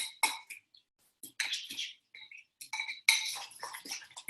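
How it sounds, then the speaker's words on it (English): A fork mixes a lumpy green mixture in a bowl, giving scattered clinks and scrapes in short irregular bursts separated by brief pauses, fairly close and moderately loud. "now just simply with my fork, I'm just continuing to mix that through"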